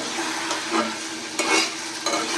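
Potato curry is stirred in a hot pan, a loud, close, continuous sizzle with scraping sweeps of the spoon swelling every so often, with no talk.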